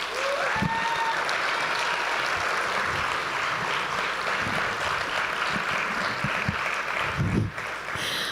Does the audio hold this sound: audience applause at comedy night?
yes